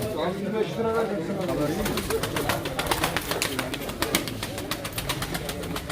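Miski pigeons coo in low, repeated rolling calls while people talk nearby at a pigeon sale, and the birds stay audible under the voices.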